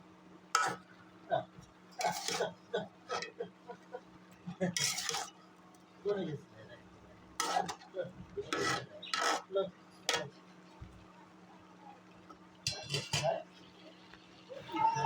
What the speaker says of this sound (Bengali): এদিকে আমি আবার তরকারি নাড়াচাড়া করে নিতেছি।